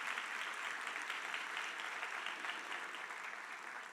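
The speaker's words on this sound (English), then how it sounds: "Please give him another round of applause." Sustained applause from a forum audience greeting the organizer, steady and dense throughout with no voices standing out, fairly distant and even in level.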